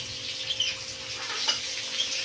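Green and dried garlic fry with cumin in oil for a fenugreek dish, producing a steady, close sizzling hiss with a few small crackles.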